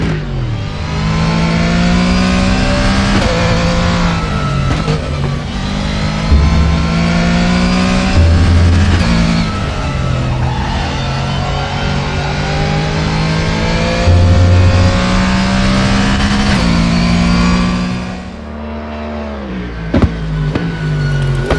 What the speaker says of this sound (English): So how well did the developers at KW Studios capture the Mustang sound?